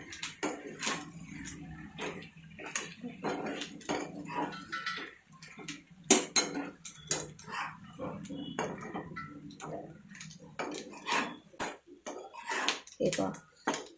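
Boiled pasta is mixed into gravy in a pan for a wheat versus maida pasta comparison, with a spoon clattering and scraping in frequent irregular strokes and wet squelches, close by.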